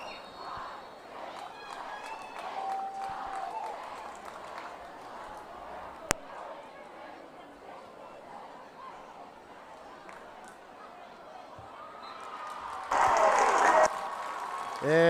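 High school football crowd with packed student sections at a Northside game, a broad cheering roar beneath a play-by-play announcer, rising to a louder burst near the end.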